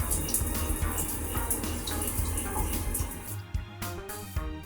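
Water streams from a Niagara low-flow showerhead set to 0.5 GPM, a steady close hiss of spray that runs through the whole clip with slight shifts near the end.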